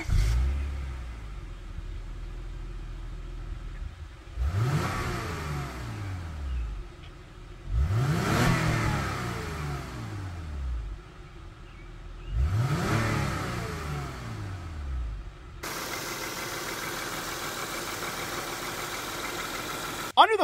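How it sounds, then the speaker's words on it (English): A 3-liter VTEC V6 in a 2003-2007 Honda Accord revs up three times from idle, each throttle blip rising and falling in a strong close-up roar, then settles into a steady idle hum. "Under the hood here, we have the 3-liter VTEC V6 that pumps out 240 horsepower and 212 pound-feet of torque."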